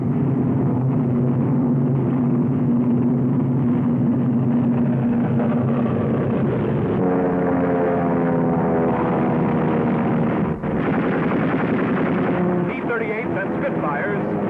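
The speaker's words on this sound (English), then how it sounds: "American P-38s rise to the attack" Allied P-38 fighter planes taking off from a wartime airfield, a loud continuous engine drone with shifting harmonic tones that swells and changes pitch, steady throughout with a brief dropout near the end.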